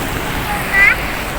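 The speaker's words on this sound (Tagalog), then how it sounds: "sobrang lakas yung ulan niya sa labas" Heavy rain pours outside on a roadside campsite with a Delica van, in a dense, unbroken hiss, loud and steady throughout with no voices.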